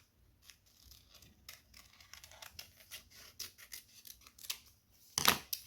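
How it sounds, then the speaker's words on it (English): Scissors cut a paper heart shape in a quick run of close, crisp snips and rustles that grow louder, ending in a sharp final cut, with no voices. "Now, we are going to cut out another heart."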